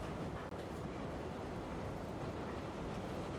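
Steady rumbling train-riding ambience in the Tsukihime video game, a continuous broadband roar of a moving carriage without distinct clicks, even and unbroken throughout.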